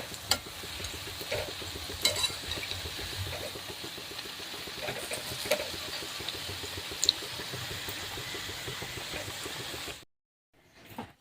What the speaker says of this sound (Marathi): छान अशी फुललेली मस्त भजी आणि जाळी छान आलेली आहे आता पलटी करून घ्यायची